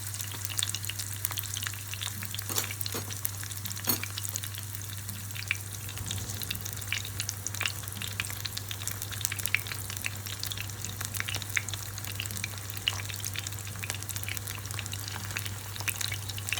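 Partly frozen fish fillet frying on low heat, a soft continuous crackle and sizzle with scattered small pops over a low steady hum, close and fairly quiet, no voices.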